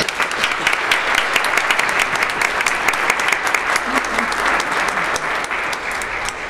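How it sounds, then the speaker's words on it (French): An Easter Mass congregation applauds in church with steady, dense clapping that holds for several seconds at full strength and then eases slightly, loud and close, with no talking over it. "On peut les applaudir."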